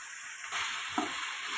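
Brinjals drop into a pan of tomato masala for Karnataka-style vangi bath, setting off a sudden sharp sizzle that carries on steadily, with one brief clatter partway through.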